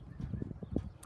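Racehorse Lavender Chrissie jogging past, her hooves giving a quick run of soft, uneven clip-clop thuds close by over a brief moment, with no talking.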